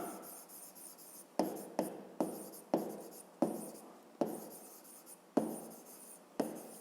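Pen strokes on paper while solving a fifth-grade maths exercise, with a series of short scratchy scribbles in an irregular rhythm, each starting with a firm tap and tailing off, close and fairly quiet with no talk.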